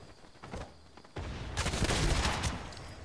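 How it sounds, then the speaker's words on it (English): Gunfire in a Fortnite match: a quiet stretch, then a sudden burst of rapid, dense shots that grows louder and continues as a sustained volley for about two seconds. "Where's that gunfire coming from?"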